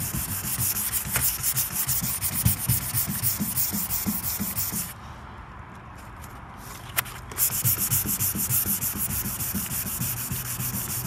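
Hand sanding a 1979 Chevrolet Caprice fender with 220 grit sandpaper, a close, steady rhythmic rasp that pauses briefly midway, then resumes, with no talk.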